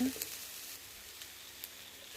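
Cashew nuts frying in oil in a pan while sambar is prepared, a soft, steady sizzle with faint crackles, close and quiet, with no talking.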